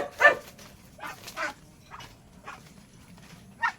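A dog barks angrily at muscovy ducks, giving a series of sharp, agitated barks and yips in irregular bursts. The barks sound fairly close, with quiet pauses between them and no talk over them.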